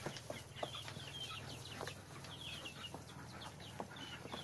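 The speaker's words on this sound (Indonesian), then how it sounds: "ini dia ayam yang jantan, ayam Arab yang jantannya" An Arab rooster clucks softly in a few short, scattered calls over a faint, steady background hum.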